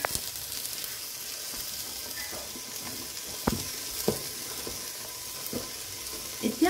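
Ginger garlic paste and green chillies fry in a pan for chicken biryani, a soft continuous sizzle broken by occasional spoon clicks and stirring scrapes, fairly quiet with no talking.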